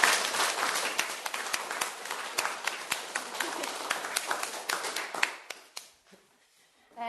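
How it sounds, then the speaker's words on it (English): Audience applause at the close of a history lecture at a history centre in Dornoch, a moderate crowd clapping steadily with distinct individual claps before it thins out and fades near the end. "we could give our speaker one last round of applause."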